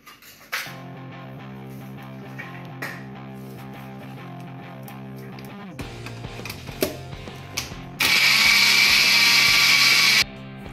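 A kitchen mixer grinder blends lassi made from yogurt, powdered sugar and ice cubes, giving one loud, steady whirring burst of about two seconds near the end over a quieter tonal background.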